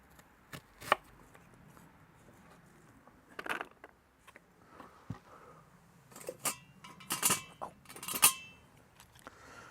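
Knife chopping marrow into small pieces for curried soup on a board, irregular sharp taps, quiet pauses between them and a denser cluster of cuts toward the end.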